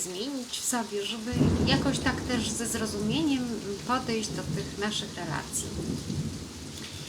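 A thunderstorm rumbles with steady rain in the background while a person speaks Polish continuously in the foreground.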